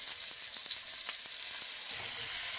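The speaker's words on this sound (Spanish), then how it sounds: "ahora voy a agregarle la espinaca. Vamos a vaciar." Spinach hits a hot pan and starts a loud, dense, continuous sizzle, with a few light clicks and taps near the start and no talking.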